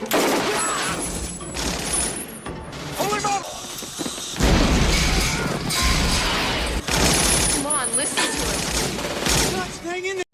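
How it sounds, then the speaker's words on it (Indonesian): Gunfire in an intense firefight, dense bursts of automatic fire and booming shots layered over a continuous loud battle din, with voices in the mix throughout. "Di tengah baku tembak yang semakin intens"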